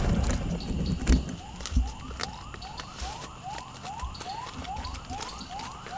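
A police car siren wails in repeated rising sweeps at night in a forest, moderately distant, over low background rumble and a few louder thumps.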